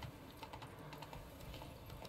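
A cat walks across a computer keyboard, producing faint, irregular key clicks and taps spread across a couple of seconds over a quiet background.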